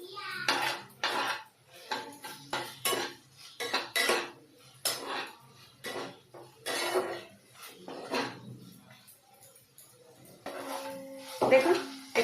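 Chilli paneer being stirred with salt in a pan, giving repeated scraping and clinking of a utensil against the metal at close range, mostly alongside steady talk, with a louder stretch of stirring near the end.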